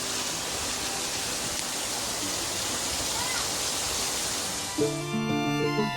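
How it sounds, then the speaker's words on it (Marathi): Heavy monsoon rain in the Konkan region pours in a dense, unbroken hiss close by, briefly joined by a few musical tones at the very end. "आता का यो पाऊस थोपल ऐसा वाटत नाही जाम जोरात आहे"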